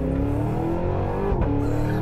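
Supercharged Cadillac Escalade V SUV engine in V mode, a loud, continuous deep growl with a rising and shifting pitch as it revs, sustained throughout and close by with no talk.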